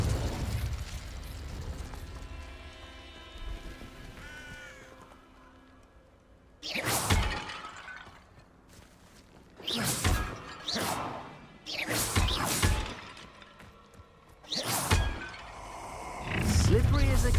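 Confringo, an explosive spell in Hogwarts Legacy, bursts repeatedly as sharp, shattering blasts in irregular succession, with a voice speaking over quieter stretches between the impacts.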